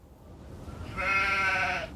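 A sheep in the Nancy Drew game The Haunting of Castle Malloy lets out one sustained, wavering bleat lasting about a second, loud and close over a quiet background hum.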